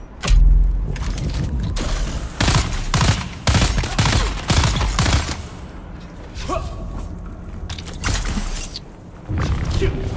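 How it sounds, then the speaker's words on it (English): Gunfire and a grenade blast in Dune Awakening, with sharp, irregular bursts of shots and heavy booming thuds scattered across the span, some faint voices between them. "I see someone throwing grenade."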